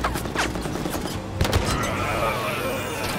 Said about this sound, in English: Why are they shooting at me?